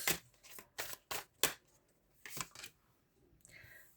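Tarot cards are shuffled and drawn, a run of quick crisp riffles and flicks followed by a few softer card slides, close and fairly quiet, no talk.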